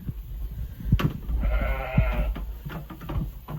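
Katahdin ewes bleat while they eat fresh hay, with several loud, close calls rising over steady low rustling and munching.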